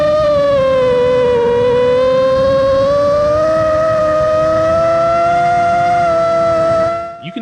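Foxeer Donut toroidal propellers spinning on an FPV quadcopter, a loud steady whine with a strong tonal drone that slowly rises in pitch, continuous and close, cutting off at the end.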